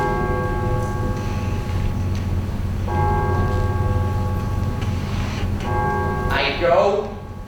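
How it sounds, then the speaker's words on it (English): A church-style bell tolls repeatedly as a stage sound effect in a high school production of Macbeth, its steady ringing tones sustained through the clip with a voice rising near the end. "The bell invites me."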